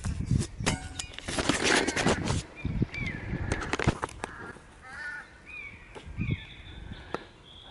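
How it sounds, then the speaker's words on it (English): Birds in a bluebell wood call overhead in a scatter of harsh squawks and short cries, fairly distant, amid rustling and handling thumps near the microphone as a bird of prey is mobbed by another bird. "there's a bird of prey being attacked by another bird"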